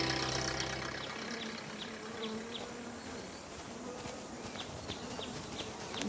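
Bees buzzing around honey hives, a steady close insect drone with a few individuals passing nearby, under faint outdoor ambience.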